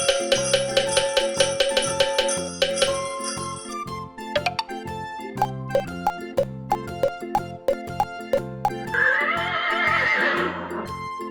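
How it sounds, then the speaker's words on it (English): A horse gives a loud, shrill whinny near the end, over a bouncy musical backing with jingling bell tones and steady clip-clop hoofbeats. "horse"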